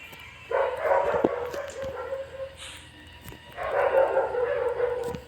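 A dog in the horror video game Granny 2 barks and yips in two extended bouts, fairly close, with soft game ambience and faint clicks around it.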